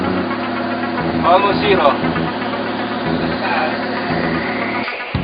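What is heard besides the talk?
engine running in lubricant friction test demo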